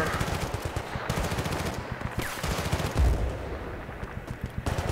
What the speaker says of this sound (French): Ah, là voilà la mitrailleuse.